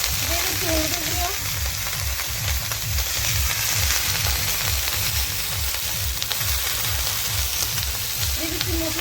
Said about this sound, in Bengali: দিয়ে দিচ্ছি মশলা, কাঁচা লঙ্কা বাটা, আদা বাটা, জিরে বাটা একসঙ্গে ভেজে নিব